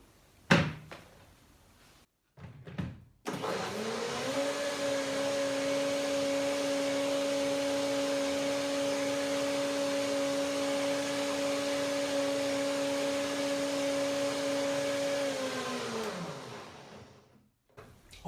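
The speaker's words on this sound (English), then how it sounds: "Always nice to have a second blending with unsoaked nuts, because that makes it nice and creamy without soaking." A blender whirs steadily for about twelve seconds, running unsoaked nuts for a hemp hazelnut cream. A few knocks and thumps come just before it starts, and the motor winds down at the end.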